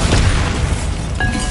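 A Bombarda spell bursts in the Hogwarts Legacy video game with a loud, dense boom and rumbling blast that fills the whole moment, a bright tonal ring rising near the end.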